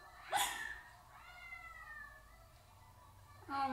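A cat meows a few times up close, with drawn-out, wavering calls between sharper bursts at the start and end.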